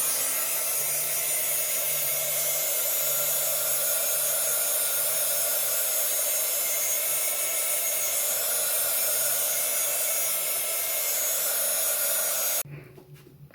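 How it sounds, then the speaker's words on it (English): A heat gun blows hot air across a painted craft square, a steady, loud broadband roar holding evenly for about twelve seconds before cutting off abruptly near the end. "I'm gonna put a little heat gun action to it"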